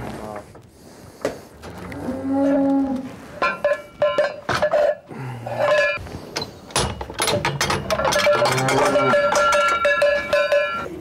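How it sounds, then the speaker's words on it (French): Cows low now and then while cowbells clank and ring steadily nearby as the cows are let out in a French village, the clanging growing busier toward the end. "on va sortir les vaches"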